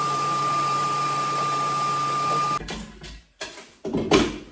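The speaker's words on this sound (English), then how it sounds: "I'm going to get the hoover in there and clean that out." A vacuum cleaner runs steadily with a strong tonal whine while cleaning debris out of a high-level toilet cistern, then cuts off partway, leaving irregular knocks and scraping handling sounds.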